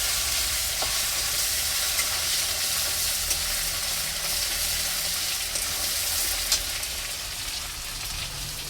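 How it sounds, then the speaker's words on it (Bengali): Spice masala for a fish curry is stir-fried in a hot pan, giving a loud, dense, continuous sizzle that barely changes throughout, with the occasional faint scrape. "এবার এই মশলাটা একটু কষাতে হবে।"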